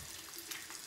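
Hands scrubbed under a running tap at a sink, a steady close wash of water with soft splashing throughout and no talk.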